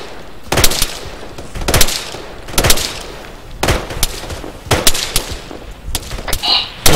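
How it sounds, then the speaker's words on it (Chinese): Gunfire in the tactical shooter Arma 3 cracks out in loud, sharp shots spaced about a second apart, with bursts and echoing tails, no talk over it. "他们对你们那边开火"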